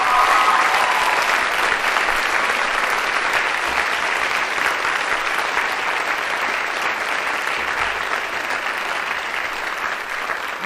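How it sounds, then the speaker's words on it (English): A large audience gives sustained applause for students at a school ceremony, dense clapping that holds steady and fades slightly toward the end. "Let's give them a round of applause."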